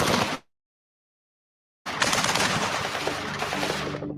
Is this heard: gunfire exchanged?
yes